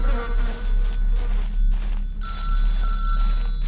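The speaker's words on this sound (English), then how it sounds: "we hear a phone Still ringing." An old telephone rings continuously in a horror video game, a steady electronic bell tone that repeats under a constant low background hum, fairly close and without speech.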